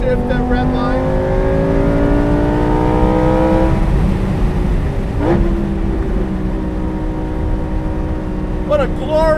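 Lamborghini Performante Spyder engine held at the rev limiter in Corsa mode, a loud sustained high-pitched roar with rising tones that bounces against the limiter, heard from inside the car with someone talking over it.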